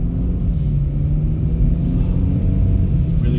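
Kia car driving on a snowy road, heard from inside as a loud, steady low engine and road rumble with no break.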